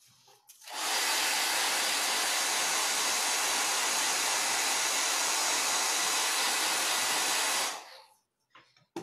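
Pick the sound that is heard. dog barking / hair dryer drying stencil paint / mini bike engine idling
hair dryer drying stencil paint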